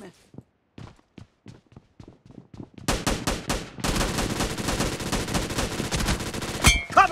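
Gunfire in the mobile battle royale BGMI during a team deathmatch at Hangar: spaced single footstep-like taps, then dense rapid automatic bursts building into continuous loud shooting.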